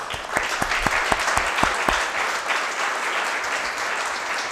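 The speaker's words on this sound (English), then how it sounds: "Uncle Tariq, who probably deserves a special round of applause" Audience applause fills a launch event at City Chambers, a dense, steady wash of many hands clapping at close range, with a few sharper claps standing out early on and no pause throughout.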